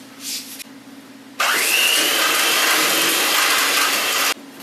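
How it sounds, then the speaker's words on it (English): Electric mixer creaming butter and sugar in a large bowl for gluten-free ginger snap dough, a steady loud whir holding for about three seconds after a quieter start, then cutting off. "So I've got my bigger bowl with the butter and sugar, and I'm going to beat this together."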